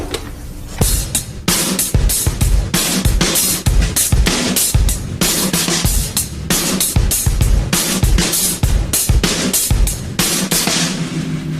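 A drum kit plays a simple two-bar groove between kick and snare with steady eighth-note hi-hat, loud and close with sharp regular hits throughout.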